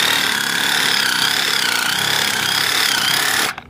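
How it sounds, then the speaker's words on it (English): Trencher machine sawing through roots while cutting a narrow trench for shed electrical, a loud, steady grinding roar close by that runs continuously and then stops abruptly at the end. "Saws all your roots up, cut you a little trench to however wide you need it."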